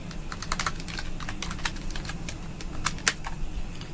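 Someone types a password on a computer keyboard: a steady run of quick, crisp key clicks at close range, with a few sharper taps near the end and no talk.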